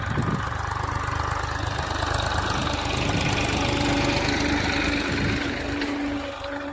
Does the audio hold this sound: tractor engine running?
yes